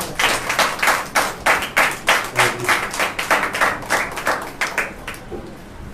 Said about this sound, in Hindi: जोरदार उनके तालियों के साथ